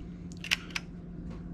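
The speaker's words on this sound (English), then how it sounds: "you push the shutter and it stays open." Shutter of a 1900s Kodak No. 1-A Model C folding pocket camera: two or three small, sharp mechanical clicks close by, over a steady low hum, with no talking.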